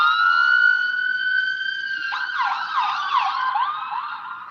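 An ambulance siren wails, sweeping up and down, then breaks into a rapid warbling yelp; loud and close, with no talking.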